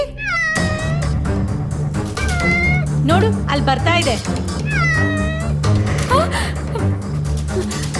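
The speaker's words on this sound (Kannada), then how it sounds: "ಅದೇ ಬೆಕ್ ಇವಾಗ ವಾಪಸ್ ಬಂದಿದೆ" A cat meows repeatedly in rising, drawn-out cries, close by, while a person talks over it with steady background noise.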